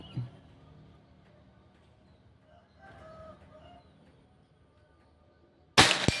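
A single sharp report from a Pajero Gun Gen 6 PCP air rifle fires near the end during an accuracy test, sudden and loud after several seconds of quiet outdoor background.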